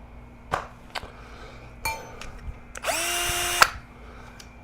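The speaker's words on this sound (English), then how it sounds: "Power drill, check." A cordless power drill, used while fixing up a bedroom, gives one short whirring burst after a few scattered clicks and knocks, close and fairly loud, in a quiet room.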